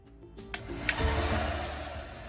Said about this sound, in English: So this is a shop air blower, but a standard hairdryer will also do the job.